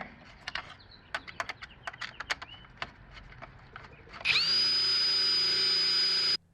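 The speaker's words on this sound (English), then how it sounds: "Someone tried to take the screw out and they stripped it. So I'll go ahead and drill this out." A series of sharp taps and clicks precedes a power drill drilling out a stripped screw on an automatic pool cleaner; it whirs up abruptly and runs at a steady high pitch, close by.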